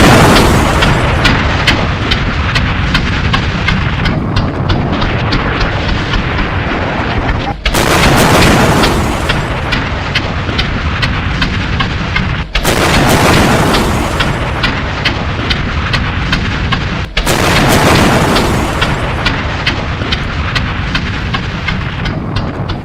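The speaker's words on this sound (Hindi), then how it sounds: "अमेरिका के इस अटैक के बाद जोरदार धमाके होते हैं वेनेजुएला में और वेनेजुएला दहल उठता है।" Explosions from US air strikes on Venezuela: three heavy booms hit at intervals over a constant loud rumbling roar.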